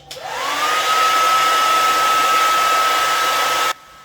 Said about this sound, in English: we can make the ping pong ball float with the air from the hairdryer